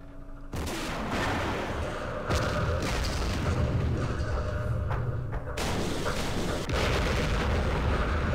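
Rocket artillery strikes in the Campaign Series Vietnam game at the Battle of Ia Drang. Several heavy booms and rumbling blasts land in bursts one after another, loud and continuous, with no one speaking.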